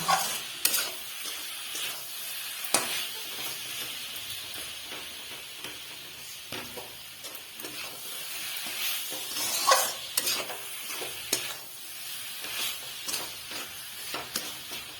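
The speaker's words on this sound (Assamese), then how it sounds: "চুজি আৰু নাৰিকলখিনি অকণমান সময় ভালদৰে ভাজি থাকিম।" Dry food sizzles and rustles steadily in a pan, with frequent scraping and tapping from a spoon stirring throughout.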